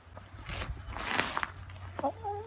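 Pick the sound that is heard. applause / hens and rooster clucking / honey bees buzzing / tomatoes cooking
hens and rooster clucking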